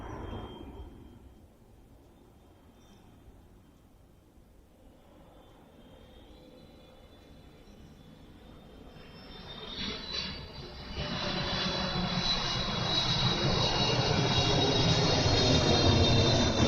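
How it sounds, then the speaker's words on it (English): A plane approaching at night on a city street, beginning as a faint distant whine and swelling into a loud, broad engine roar that keeps building toward the end, with no talking. "here comes the last Matrix plane, I think."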